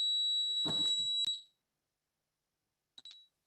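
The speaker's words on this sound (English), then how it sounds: "I think that might be the alarm in my" A household alarm sounds with a piercing steady high beep, held for over a second alongside a brief burst of background noise, then cut off, followed by a short chirp after silence.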